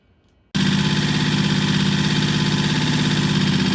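A T20M motorcycle engine idles steadily right after its first start, a loud, even, throbbing hum that cuts in abruptly after a brief quiet moment and holds without change.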